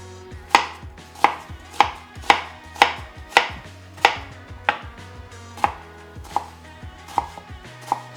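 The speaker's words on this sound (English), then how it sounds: "So we want a medium onion, and we want to chop that up into fine pieces." A knife chopping a medium onion into fine pieces on a cutting board, about a dozen crisp evenly spaced thuds, close and clear with no talking.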